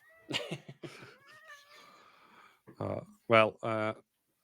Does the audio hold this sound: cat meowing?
yes